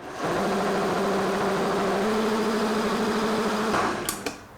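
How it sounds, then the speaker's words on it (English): A Vitamix blender whirring at medium speed while blending nut milk, a loud steady motor hum for about four seconds that winds down, followed by a couple of clicks. "I think I'm going to do about medium speed for about 30 seconds."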